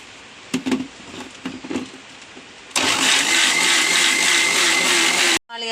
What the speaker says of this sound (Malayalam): നമുക്ക് നാളികേരം അടിക്കാം.